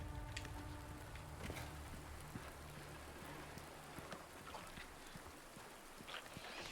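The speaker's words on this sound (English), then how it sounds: "Let's take another walk through the rain." Rain falls steadily in the Silent Hill 2 (2024) video game as a soft, even patter with scattered drip-like taps. It stays faint and continuous, and no one speaks.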